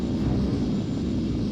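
A spaceship in the Colony Wars video game flies in with a steady, low engine rumble and a broad roaring hiss, loud and continuous, with no talking over it.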